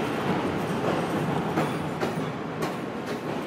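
A train rolls past on the rails with a continuous rumble and rhythmic clicks of wheels over joints, moderately close, no voices.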